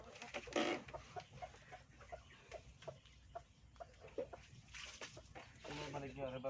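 Farm chickens cluck and call while being given feed, short scattered clucks over steady background noise, with people talking nearby.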